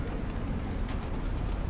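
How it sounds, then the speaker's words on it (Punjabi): Racing pigeons lift off together at a Farran pigeon sports festival tournament in Gujrat, a steady rushing flutter of many wings mixed with faint cooing and a distant car, no voices. "ਲਓ ਜੀ ਕਬੂਤਰ ਨੇ ਉਡਾਨ ਭਰ ਲਈ ਹੈ ਜੀ"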